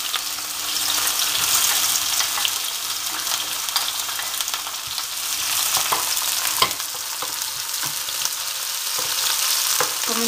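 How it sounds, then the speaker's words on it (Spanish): Onion sautés in oil in a pan for a chicken stew, a steady close sizzle and crackle with faint stirring, no talking. "Vamos a comenzar rehogando un poquito la cebolla."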